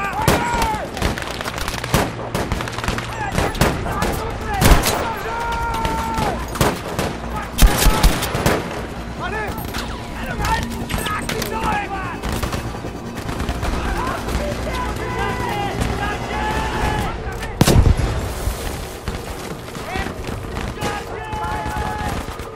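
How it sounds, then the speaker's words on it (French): Anti-aircraft cannon fire in the Battlefield V PC game, rapid loud bursts of shots with sharp repeated reports and booms layered over dense battle noise. "Canon antiaérien."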